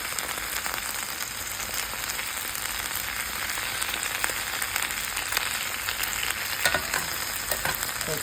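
Italian sausage and sweet peppers frying on low heat in a pan, a steady dense sizzle and crackle that runs continuously, close and even, with scattered sharper pops.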